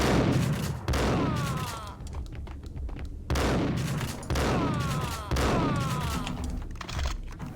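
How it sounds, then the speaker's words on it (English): Three loud, booming shotgun blasts from the video game Max Payne, about a second apart with a longer gap after the first, each followed by a ringing tail and rattling echo. "Shotgun, very good."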